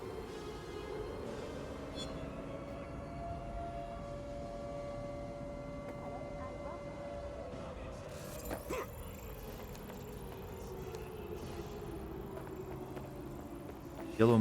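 A long, wailing Silent Hill-style siren in the video game Watch Dogs: Legion rises and holds a droning tone over a low rumbling ambience, steady for many seconds before fading.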